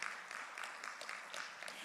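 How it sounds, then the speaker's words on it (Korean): Audience applause for a panelist being introduced at an ocean policy forum, a short burst of steady clapping from a hall crowd with a voice speaking over it. "큰 박수 보내드리겠습니다."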